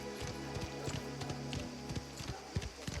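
Horse hooves clip-clop in a video game, a steady rhythmic trot of quick, evenly spaced hoof strikes over a constant low hum, moderately close and fairly clear.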